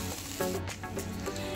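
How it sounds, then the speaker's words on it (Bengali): Chicken frying with a little salt in a pan gives a steady, soft sizzle with faint rubbing and stirring noises, close by and alone. "একটু হালকা নুন দিয়ে ভালো করে এটাকে ফ্রাই করছি"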